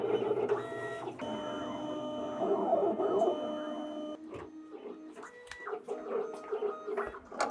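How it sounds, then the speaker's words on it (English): A CNC vinyl cutter works through blue vinyl stencils with a steady motorized whir and shifting buzzing tones, carriage moves starting and stopping close by without talk. "I'm back at the CNC machine, and I've got my vinyl cutting software set up to cut out my stencils for the acid etching"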